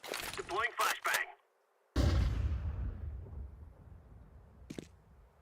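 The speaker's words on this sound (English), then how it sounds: "Deploying flashbang." A flashbang grenade goes off in Counter-Strike 2, one sharp loud burst with a ringing, fading tail, after brief game voice lines.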